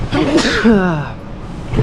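A single sharp sneeze bursts out up close, its voiced tail trailing off into a short quiet afterward.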